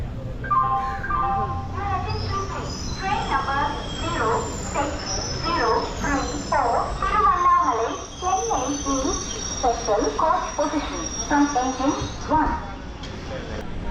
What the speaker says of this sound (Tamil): இந்த ட்ரெயின் ஸ்டார்ட் ஆகிடுச்சு